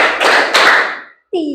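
A class of students claps together in a counted call-and-response routine, giving a quick burst of loud, overlapping hand claps followed by a brief pause and a voice.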